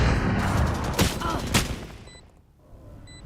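Rapid bursts of gunfire sprayed in the tactical shooter Valorant during a collegiate ECAC match, dense crackling shots for about two seconds that cut off abruptly, leaving faint game tones.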